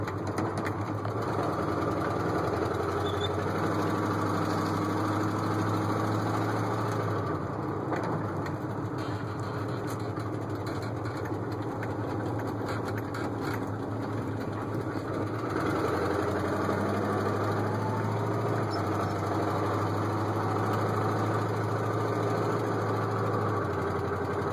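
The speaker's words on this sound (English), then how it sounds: "Sorry about the loud exhaust." A 1968 Ford F100's 390 FE V8 idles loudly with a rough, rumbling exhaust from slightly leaking headers, steady and close throughout with a low throbbing drone.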